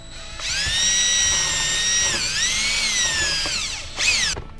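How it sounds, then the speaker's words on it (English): A power drill whines steadily for several seconds drilling a hole in a Ford Foxbody interior, pitch dipping briefly under load, then a short final burst before stopping. Close and loud, no talking. "And we'll go ahead and get that drilled."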